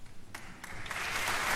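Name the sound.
applause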